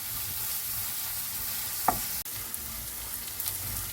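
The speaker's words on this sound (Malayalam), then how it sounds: "അതിലേക്ക് 1/2 ടീസ്പൂൺ വെളുത്തുള്ളി അരച്ചത്, കുറച്ച് കറിവേപ്പില, ഇത്രയും ചേർത്ത് നല്ലവണ്ണം വഴറ്റാം" Garlic paste and curry leaves sautéing in a pan for chicken curry, a steady hiss of frying throughout with a faint stirring scrape and a brief tap partway through.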